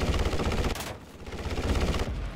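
A Hurricane Mk IV's 7.7 mm machine guns in a flight combat game hammer out sustained rapid fire, loud and continuous, with a brief dip near the middle before the burst resumes.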